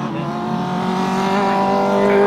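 A grasstrack racing machine crossing the finish line at a grass track meeting, a loud, steady engine drone that rises slightly as it nears, with no talk over it.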